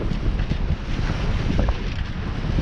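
A sailboat pushes through slightly choppy sea on a windy passage, with constant wind buffeting the microphone over the wash of waves against the hull, loud and steady throughout.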